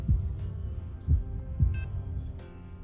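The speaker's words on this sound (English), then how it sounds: "One clearly recognizes a slow heartbeat." A slow heartbeat is heard through a stethoscope in an emergency room simulator game, with three deep, soft thumps about half a second apart, a low hum underneath and a faint electronic beep between them.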